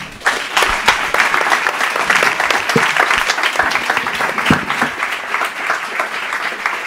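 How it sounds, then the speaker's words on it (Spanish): Conference audience at a talk on energy efficiency in buildings applauds the speakers, a full burst of clapping that rises quickly and carries on steadily, with a few sharper individual claps standing out before it thins slightly. "Un aplauso, por favor."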